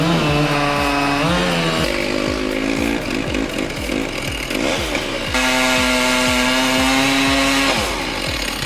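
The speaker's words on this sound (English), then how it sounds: "Look at that chainsaw dangling in the void." A chainsaw roars continuously while cutting a tree, its engine pitch rising and falling as it revs and bites into wood, loud and close throughout.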